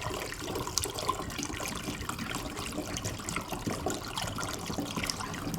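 Homemade nettle wine is poured into a sterilised bottle, a soft continuous trickle and splash of liquid heard faintly and close.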